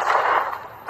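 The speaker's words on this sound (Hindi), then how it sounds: "ये 5 टैंक्स पैसों पर निशाना लगाकर 20 राउंड फायर करने वाले हैं।" A tank fires a shot at a pile of money, a loud deep boom with a rumbling tail, followed by a sharp crack at the very end, close and without talk.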